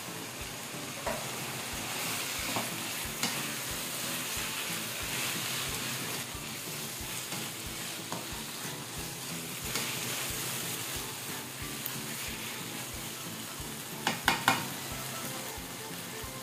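Onion leeks sizzling steadily in a hot pan, a constant frying hiss with periodic scraping and clatter of a utensil stirring, close and alone.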